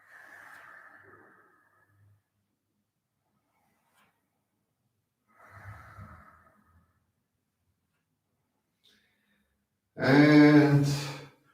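A person breathes during a yoga exercise, with a soft exhale near the start, another quiet breath midway, then a louder voiced sigh-like exhale at the end, separated by near silence.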